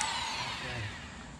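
A drill with a hole saw boring into a terracotta pipe, a loud steady high whine that slowly drops in pitch as the cutter bites, close and continuous, no voices.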